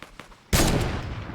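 A gunshot in Fortnite Battle Royale, preceded by a few faint clicks, then a sudden loud blast that rings out and decays over the following second.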